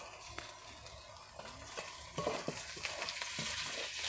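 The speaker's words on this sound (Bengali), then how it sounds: "ভালো করে নেড়ে চেড়ে কষবো" Chicken being stir-fried in spices for biryani, a soft steady sizzle with repeated scraping and clinking of a spoon stirring in the pan, growing a little louder partway through.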